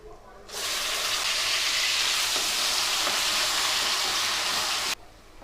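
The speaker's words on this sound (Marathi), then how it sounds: "आता आपण यामध्ये कांद्याची प्युरी घालून घेऊया" Onion puree hits a hot pan with cumin and whole spices: a loud, steady sizzle starts suddenly, holds for about four seconds close up, then cuts off.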